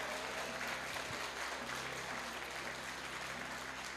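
Congregation applauding during an evangelist's church service, a steady, faint wash of clapping heard from a distance, with no voices over it.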